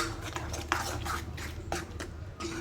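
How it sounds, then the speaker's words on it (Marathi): Masala for an arbi and pea dish is sautéed in oil in a pan, with soft sizzling under repeated scraping and clinking of a spoon against metal, close and steady, with no talking. "आता आपण हा मसाला पूर्ण तेल सुटेपर्यंत छानपैकी असा परतून घेणार"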